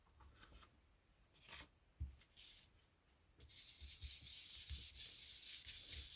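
A paintbrush applying colour to a picture card, with soft close scratchy rubbing strokes and a few light taps, growing into a denser continuous brushing hiss toward the end.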